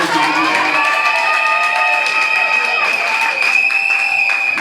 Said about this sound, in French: Acclamez s'il vous plaît